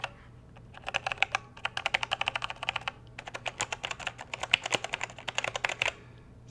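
Rapid, clicky keystrokes on a Logitech G413 Carbon mechanical keyboard, close and crisp, coming in dense bursts separated by brief pauses, with no talking.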